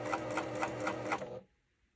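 A sewing machine runs steady, rapid stitches along a pillow seam at a lengthened stitch setting for about a second and a half, then stops abruptly into near silence.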